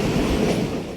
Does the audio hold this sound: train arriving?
yes